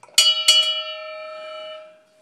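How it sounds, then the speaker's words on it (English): A small brass bell on a Chris Craft boat is struck twice in quick succession, close and bright. The second strike leaves a clear, pure ring that decays slowly over about two seconds. "a handy dandy little bell here, the brass bell"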